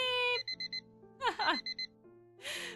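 Quick electronic beeps from a countdown timer alarm chime in short clusters, going off repeatedly, mixed with a sustained tone and brief noise between.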